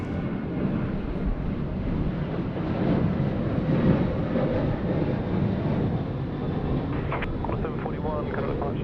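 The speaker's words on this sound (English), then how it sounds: "On a 737 getting away here at runway 34 left" A Boeing 737 takes off from runway 34 left at Sydney Airport at night, heard as a steady, distant jet roar that swells slightly mid-way, with faint voices toward the end.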